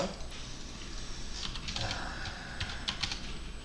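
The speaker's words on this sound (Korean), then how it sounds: "전체를 다 지우고 싶을 때는 D를 꾹 누르고 있으면 된다" Computer keyboard in a Linux terminal running the vi editor, with the D key held down to delete text; soft, steady key clicking and light typing repeats throughout, close and moderately quiet with no talking.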